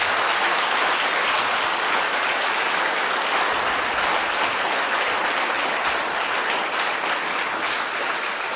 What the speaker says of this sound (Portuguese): Vamos aplaudi-lo bem forte.